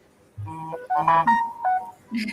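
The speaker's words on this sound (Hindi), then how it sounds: "फ़ोन आ रहा है आपका।" A mobile phone ringtone plays a short, bright melodic tune in bursts during an indoor Hindi poetry interview, clear and fairly close with no talking over it.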